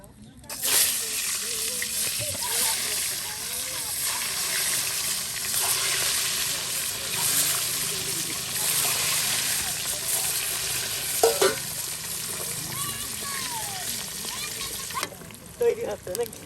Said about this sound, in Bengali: এখন কিন্তু ডিম ভেজে নেওয়া হবে